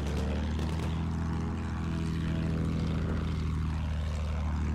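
An enemy propeller plane in a World War-era video game battle with an armored train drones steadily, a continuous engine hum with shifting pitch as it passes overhead, no talk.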